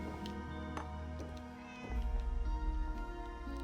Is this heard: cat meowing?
yes